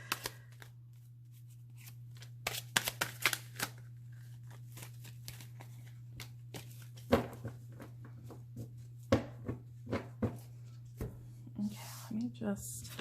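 Tarot cards being shuffled and handled in a quiet room, with a series of sharp, irregular riffling bursts and snaps over a low constant hum, some bursts close and crisp, others softer.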